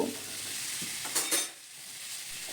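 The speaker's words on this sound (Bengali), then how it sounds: "আলু পটলটাকেও এবারে মশলার সাথে দু তিন মিনিটের জন্যে কষিয়ে নেব" Potato and pointed gourd stir-frying with spices in a pan, a steady soft sizzle with a few brief scraping stirs near the middle, close and alone without any talk.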